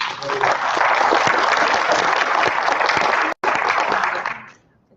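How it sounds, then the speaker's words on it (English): A Veterans Day recognition program audience gives organizers a round of applause, with dense, steady clapping filling the room at even loudness before a brief dropout and a gradual fade at the end. "Let's give them a round of applause."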